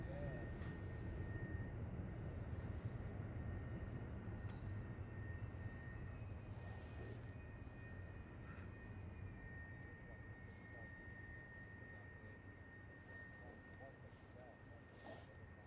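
A Jet2 airliner takes off at Manchester Airport, a broad steady engine roar that slowly fades while people talk quietly nearby.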